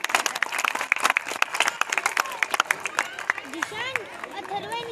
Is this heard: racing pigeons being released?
no